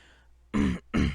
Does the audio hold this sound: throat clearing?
yes